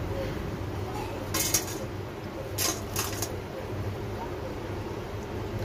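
Crispy fried onion bhajiya fritters rattle and clink against a metal spoon as they are lifted out of the oil, a few short bright crunchy bursts over a steady low kitchen hum.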